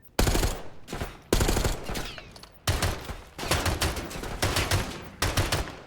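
Rapid automatic gunfire rattles in Black Ops 6, several loud close bursts separated by short pauses, with sharp individual shots cutting through.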